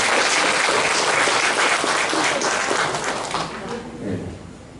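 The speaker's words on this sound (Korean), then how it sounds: "엄마 우리 매금이 엄마를 위해서 박수 부탁드리겠습니다" A church congregation bursts into loud, full applause that fills the room, then gradually thins and fades toward the end, with a faint murmur of voices underneath.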